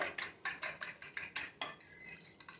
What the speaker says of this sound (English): Give it a little stir around the edge.